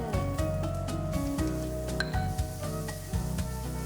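Onions caramelizing with Opor spice paste in a pan, a steady close sizzle with occasional stirring scrapes and a faint clink, no talk.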